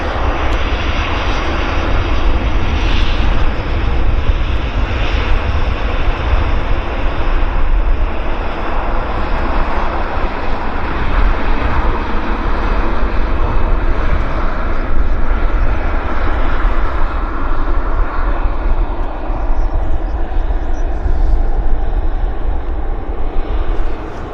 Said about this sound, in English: Got our United Airlines taxiing out